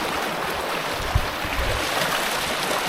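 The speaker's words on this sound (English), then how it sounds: "We've got more streams." A small mountain creek runs over rocks near a partly man-made junction, giving a close, continuous burble and splash with a few louder sloshes along the way, and no one speaks.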